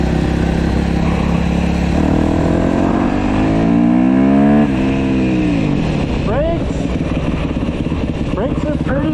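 A 2011 Yamaha YZ250 two-stroke dirt bike engine revs up hard, its pitch climbing to a high buzzing whine before dropping back, then blipping again with a rough, loud rasp.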